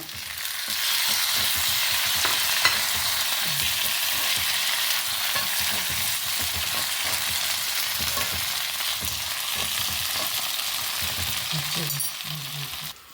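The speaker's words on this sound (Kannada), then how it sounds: "ಅದನ್ನು ಸ್ವಲ್ಪ ಡ್ರೈ ರೋಸ್ಟ್ ಮಾಡ್ಕೊಂಬ. ಇದಕ್ಕೆ ನಾವು ಕಟ್ ಮಾಡ್ಕೊಂಡ ಟೊಮೆಟೊಸ್ ಹಾಕೊಂಬ" Rice and chopped tomatoes dry roasting in a hot pan give a loud, steady, dense sizzle that runs the whole time, with occasional stirring knocks underneath.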